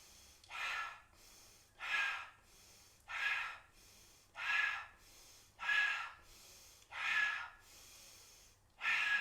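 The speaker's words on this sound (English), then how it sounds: "Keep going with your cleansing breath." Rhythmic, forceful breaths of a cleansing breathing exercise during a yoga practice, seven even pulses of about a second each spaced roughly every 1.3 seconds, close and clear with no talking.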